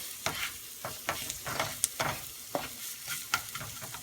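Beef enchilada filling, seasoned with salt and pepper, sautés in a pan with a steady close sizzle, broken by irregular scraping bursts as it gets stirred. No voices.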